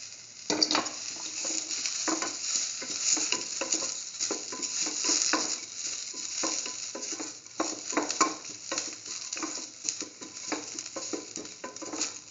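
Garlic and onion pieces sautéing in a pan with salt, a steady crackling sizzle broken by repeated scraping stirs, close and moderately loud with no voices.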